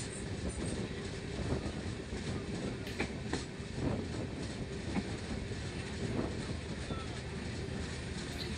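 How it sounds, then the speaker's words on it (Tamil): Train on rails between Chennai and Ongole, heard from inside as a continuous loud rolling roar with faint rhythmic clatter and wind noise. "வேகமாக போயிட்டு இருந்த ட்ரெயின் ஸ்லோவாயிடுச்சு"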